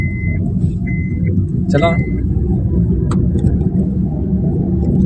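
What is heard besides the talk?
car engine with the accelerator pressed lightly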